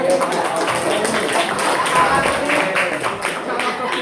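A high school class applauding a classmate, brisk overlapping claps from many students close by, with voices mixed in underneath.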